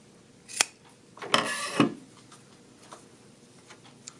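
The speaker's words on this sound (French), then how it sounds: "Je vais couper mon fil." Scissors snipping thread while sewing a vest: a single sharp click, then a longer cutting snip with a closing clack, close and crisp against a quiet room.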